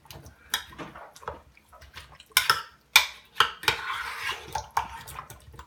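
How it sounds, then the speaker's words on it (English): A spoon clinks and scrapes against a crock pot while stirring beef stew with potatoes, spices and beef consommé, giving soft irregular taps and wet sloshing up close. "I take my spoon and I mix it back up so the spices also gets on the potatoes"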